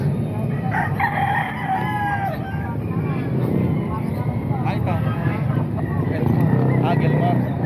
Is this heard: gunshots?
no